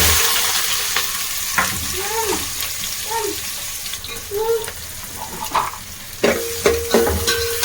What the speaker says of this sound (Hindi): अपनी कटी हुई प्याज और हरी मिर्च डाल दी।